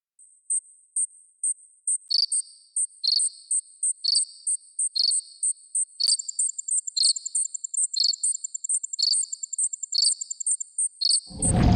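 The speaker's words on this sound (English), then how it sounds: "I also set up some randomised cricket sounds in Wise, which I positioned to come from some of the plants in the scene." Cricket chirps placed among alien plants in a sci-fi horror video game, a steady high pulsing trill repeating at a regular rhythm, joined midway by a faster chirping layer, close and clear with no talk.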